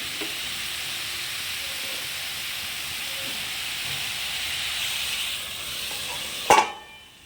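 Prawns simmer in a pan over low gas, a steady soft hiss and gentle bubbling throughout, ending in a brief sharp clatter before the sound drops away.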